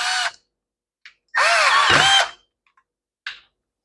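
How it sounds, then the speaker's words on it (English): A cordless power tool whirs in short bursts, one longer run of about a second gently driving a screw into a weed trimmer carburetor, with brief taps before and after, loud and close. "even though I'm using a power tool, I'm being very gentle going in"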